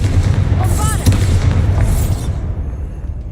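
Confringo and Bombarda spell blasts in the video game Hogwarts Legacy, a run of loud booming explosions with crackling bursts over a rumbling low backdrop, fading after a few seconds.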